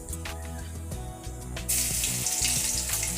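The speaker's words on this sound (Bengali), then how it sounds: "ফোড়ন দিয়ে দিলাম हाफ চামচ কালো জিরে" A hot sizzle of half a spoon of black cumin seeds hitting oil rises suddenly and keeps crackling, over a low steady hum.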